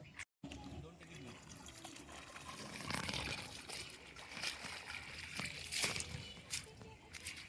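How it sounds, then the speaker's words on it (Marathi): Bhambodi leaves are washed by hand in river water. Faint sloshing and trickling splashes come and go outdoors, with voices in the background. "हा बघा भांबोडीचा पाला मस्तपैकी आपण नदीच्या पाण्यामध्ये साफ करून घेतोय."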